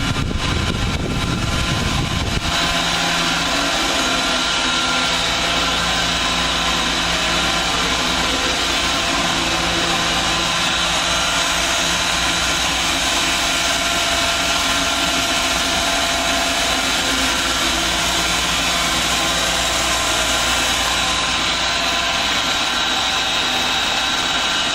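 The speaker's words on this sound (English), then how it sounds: "Here's the pump room." Pumps run in the pump room of a truck wash, a steady loud machine drone with a constant mechanical hum and whine that holds unbroken throughout, with no talk.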